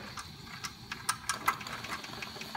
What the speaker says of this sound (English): it will start to tick over in the opposite direction. Now we're running clockwise.